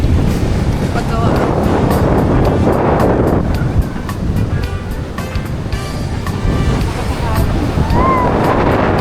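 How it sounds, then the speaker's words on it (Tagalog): Strong ocean waves crash continuously at Puka Beach, Boracay, on a stormy day, loud and close with heavy wind buffeting the microphone throughout. "sobrang lakas ng alon. Ang lakas."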